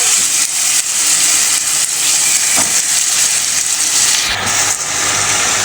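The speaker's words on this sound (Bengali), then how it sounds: "এখন আমি দিয়ে দিচ্ছি এই যে মুসুর ডালগুলো" Masoor lentils hiss and sizzle steadily in hot soybean oil, a loud, dense frying noise that runs unbroken for several seconds with small crackles.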